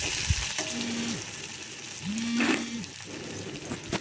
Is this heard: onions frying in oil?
yes